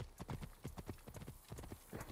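Horse hooves clip-clopping in Assassin's Creed Origins, a quick, uneven run of close, crisp hoofbeats that fades briefly and then picks up again.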